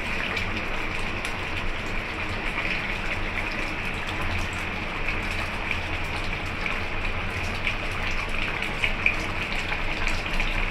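Rohu fish curry with potatoes and pointed gourd simmers in a covered pot on a gas stove, giving a steady, even bubbling hiss that carries on without pause at moderate loudness.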